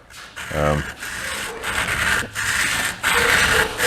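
A blade is stroked back and forth on a diamond honing plate in repeated rasping passes, each a gritty scrape of about a second with short pauses between, close and fairly loud.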